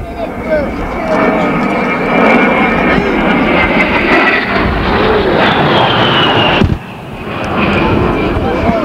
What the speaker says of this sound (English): as Captain Fu passes in slow flight, you will notice the color scheme of the A-10